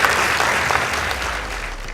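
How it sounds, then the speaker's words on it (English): Audience applause after judges' scores at a girls' secondary school debate semi-final in Kenya, a dense steady roar of clapping filling the whole moment, loud and close. "Please give them a round of applause."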